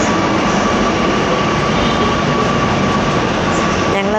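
A Kochi Metro train rumbles steadily as a passenger rides it, a loud continuous broadband roar with no talk.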